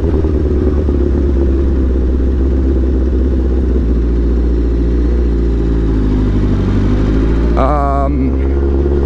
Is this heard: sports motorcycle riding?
yes